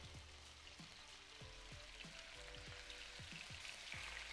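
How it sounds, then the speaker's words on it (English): Steady, quiet sizzling of chicken breast pieces frying in a hot pan, a continuous hiss with faint crackles and occasional soft pops throughout. "you wanna hear a good sizzle in there"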